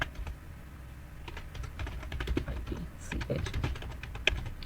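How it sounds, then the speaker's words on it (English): Typing on a computer keyboard, a quick irregular run of close, crisp key clicks with brief pauses between bursts. "So we can start typing here, business presentation."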